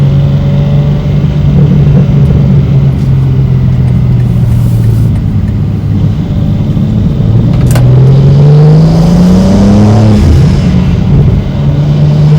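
A BMW G87 M2 fitted with an AWE intake, in Sport mode, revs loudly and steadily, its engine drone climbing and falling in pitch through several blips with a faint intake swish, no talk over it.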